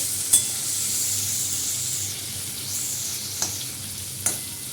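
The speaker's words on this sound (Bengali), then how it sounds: "তেলের মধ্যে 5 ফোড়ন, কাঁচা লঙ্কা দিয়েছি, আর এই যে রসুন দিয়ে দিচ্ছি" Five-spice, green chillies and garlic frying in hot oil in a pan, a steady close sizzle with a few sharp clinks of a utensil against the pan and bursts of spattering.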